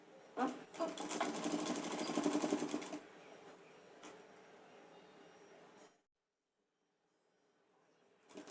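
Sewing machine stitching a Punjabi dress: a rapid, close burst of needle chatter for a couple of seconds, then a quieter slow run with a few clicks before stopping into near silence.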